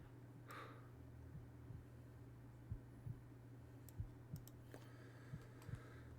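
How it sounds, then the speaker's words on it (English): Heartbeat sound effect playing as low, soft thumps in an uneven run over a steady quiet hum, with a few faint clicks and brief higher sounds scattered on top. "when the heartbeat sound effect stops"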